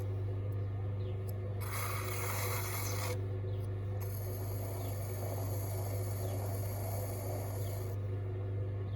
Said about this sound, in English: I'm just going to trim the bottom here